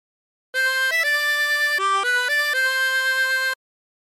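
A 24-hole tremolo harmonica plays a short phrase of Oh My Darling Clementine, about half a dozen sustained, wavering reedy notes, loud and close with no other sound.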